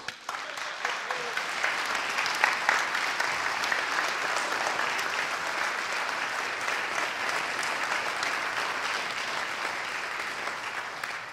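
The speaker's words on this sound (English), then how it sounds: "Stephen, I want you to step out so they can just applaud for you." A church congregation applauds steadily for a young man at a service, a dense, continuous wash of clapping from a sizeable crowd that holds its level throughout.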